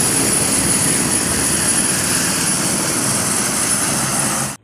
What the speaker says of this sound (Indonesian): Wow, ini mainan helikopter pemadam.